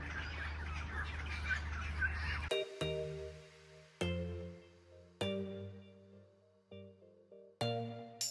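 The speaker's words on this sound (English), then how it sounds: "Listen to the birds." Birds at Wyndham in Western Australia, the most northerly town in the state, sending out chirps and calls in a busy outdoor chorus at first, then several loud ringing tonal notes that spread out and fade.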